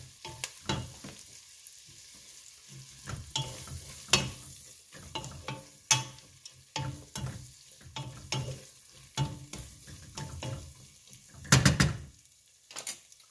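Cabbage cooks in bacon fat, hissing and sizzling in the pan while a utensil stirs it, with repeated scraping knocks and clatters over the steady fry.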